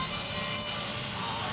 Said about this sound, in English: Spray it with fluid film.